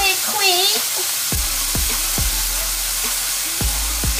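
Steak meat sizzling loudly in a hot pan, steady crackling broken by several sharp scraping stirs at an irregular pace, with a brief voice at the start.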